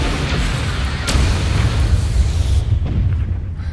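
Ship weapon firing in the space strategy game Into The Stars, a loud deep boom with a sharp burst and rumbling tail, followed by a fading low roar.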